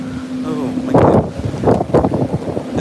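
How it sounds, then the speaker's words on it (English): Gusty wind buffeting the microphone in loud rumbling surges on the upper deck of the Carnival Mardi Gras cruise ship, with a brief tone fading out at the start. "It's so windy up here."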